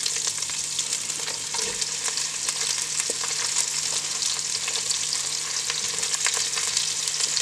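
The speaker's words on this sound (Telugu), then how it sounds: "షాజీర కొద్దిగా బాగా వేగినాక అందులోకి ఆనియన్స్ వేసుకోవాలి." Onions frying in hot oil with shahjeera (caraway seeds) for a veg or egg dum biryani, a steady dense sizzle that holds loud and unbroken throughout, with occasional faint stirring scrapes and no talking.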